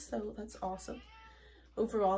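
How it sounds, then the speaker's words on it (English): A cat gives a drawn-out meow while wrestling with a dog in the background, a single wavering cry between bursts of close, clear talk that partly overlaps it. "If you hear something weird in the background, my dog and cat are wrestling"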